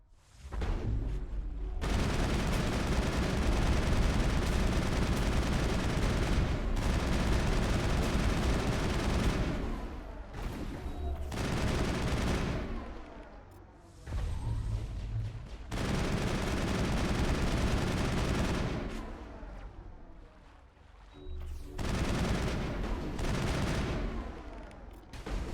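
Sustained heavy gunfire in the sci-fi shooter game Mass Effect, with sniper fire among dense, continuous volleys that drop out briefly between bursts, loud and close.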